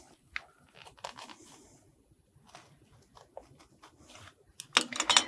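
Small sharp snips and pricks as an unpicker cuts tiny holes in embroidered fabric for a magnetic closure, scattered and faint at first, then a denser burst of crisp fabric crackling near the end.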